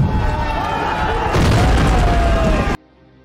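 A film car explosion set off by a Molotov bomb roars as a loud, dense blast with sustained rumbling and crackling debris, layered over music-like tones before cutting abruptly to near silence.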